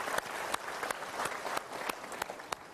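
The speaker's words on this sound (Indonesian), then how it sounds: "Kita berikan tepuk tangan dulu." A studio audience at a motivational talk show claps steadily, a dense patter of hands with sharp individual claps standing out and no voices heard over it.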